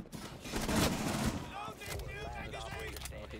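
Gunfire in the shooter video game Rainbow Six Siege comes as quick bursts of shots layered under excited voices of players talking over each other.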